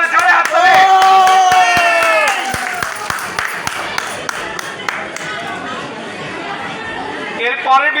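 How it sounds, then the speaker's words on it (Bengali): An audience at a trade fair prize-giving claps in a burst of scattered applause. Crowd chatter runs alongside it and an announcer talks at the start. "আবু ভাইয়ের জন্য জোরে হাততালি"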